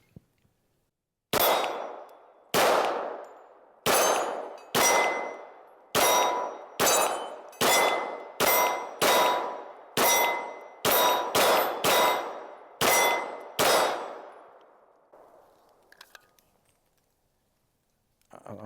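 A Kimber R7 Mako Carbon Compact pistol empties a magazine at about 13 yards, each shot followed by a sharp ringing clang from a steel target, about fifteen evenly spaced loud rounds, then a brief quiet at the end.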